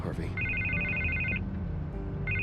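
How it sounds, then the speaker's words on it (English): A telephone rings in the Batman Telltale video game: a bright electronic trill repeats in a short burst of about a second and then starts again after a pause, set against a low background. "I can't get the phone to stop ringing"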